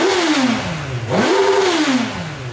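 A motorcycle engine revs up briefly, climbing in pitch, dropping, then surging again in a second quick blip before settling back near idle, close and fairly loud with no talk.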